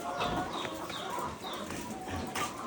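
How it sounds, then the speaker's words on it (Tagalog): Chickens, including hens, cluck faintly on a farm in short scattered calls over a steady outdoor background hiss. "Mga manok."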